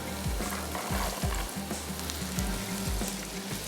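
Carrots added to frying garlic in a pan for vegetable fried rice sizzle loudly and steadily, with rhythmic stirring scrapes repeating roughly every half second and no voices.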